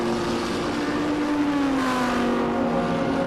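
Race cars, including a Ferrari 430, run on a circuit at the MSA Regional Extreme Festival, a continuous loud engine drone whose pitch slowly falls as a car pulls away.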